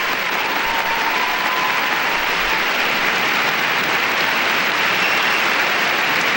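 An audience bursts into sustained applause following a debate, a dense, steady wash of clapping from a large crowd that continues evenly without a pause.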